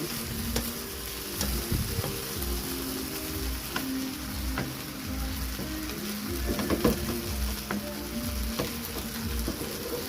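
Pancit noodles with patola vegetable and oyster sauce being stirred in a hot pan, a steady sizzle with intermittent scraping and clinking of the utensil throughout, fairly close and unaccompanied by talk.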